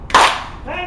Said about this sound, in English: Clap once so you can hear me.